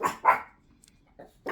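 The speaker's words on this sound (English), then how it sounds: "Oh, there goes my puppies." Puppies let out a few quick sharp barks and yips, two close together at the start and two more near the end, with short silent gaps between.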